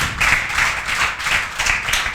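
Students in a classroom break into loud, sustained group clapping, a dense patter of many hands that swells and continues steadily for a couple of seconds.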